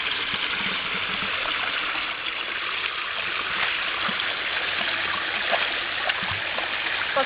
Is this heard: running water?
yes